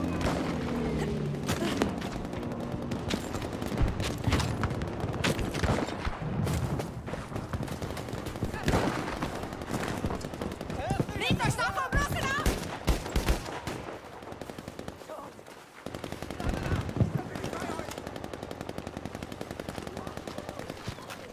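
Battlefield 5 combat with a grenade and gunfire: dense, continuous bursts of automatic weapon fire and loud blasts crowd the whole stretch, with a brief lull near the end before the shooting resumes.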